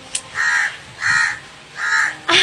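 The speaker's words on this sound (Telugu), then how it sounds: "ఆ కాకులు దాంట్లో ఇల్లు పెట్టుకున్నాయి" Crows nesting in an almond tree in front of a house caw three times in a slow, evenly spaced series, loud and close, with no talk.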